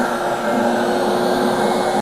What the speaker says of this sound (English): you could turn the vacuum on, and then with the water on as well, go back and forth